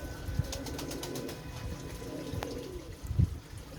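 Pigeons coo softly in two short low bursts, one near the start and one near the end, over faint background noise.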